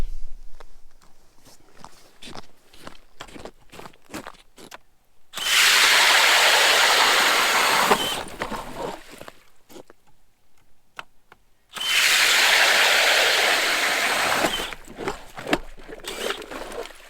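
Two long bursts of loud, rough mechanical grinding as an auger drills a hole through lake ice, several seconds each, with quiet shuffling and scraping before and between them.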